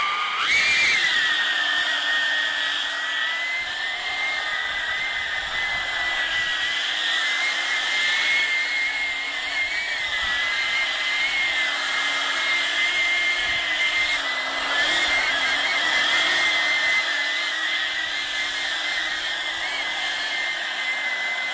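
DIY thrust-vectoring ducted-fan tailsitter drone hovering in wind, with a loud, continuous high-pitched whine and a whooshing roar that waver slightly as the fan speed shifts.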